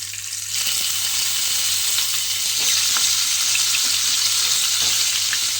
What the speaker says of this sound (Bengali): মাছগুলো একটা একটা করে এর মধ্যে দিয়ে দিলাম। দিয়ে মাছগুলোকে কিন্তু উল্টিয়ে পাল্টিয়ে একটু লাল করে ভেজে নেব।